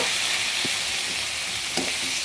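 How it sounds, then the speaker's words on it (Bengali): Pointed gourd and potatoes fry in a pan as a splash of water hits them, giving a steady, close hiss of sizzling with a couple of brief louder spits and no talking. "পটল আর আলুটা ভেজে নিয়েছি। হালকা একটু জল দিয়ে দিলাম।"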